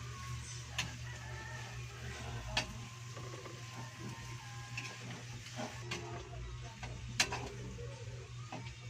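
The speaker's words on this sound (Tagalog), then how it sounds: "Saka po natin siya haluin." Chicken gizzards being stirred in a pan for Bicol-style igado, with soft intermittent scraping and a few sharp clinks over a steady low hum and faint sizzle, fairly quiet throughout.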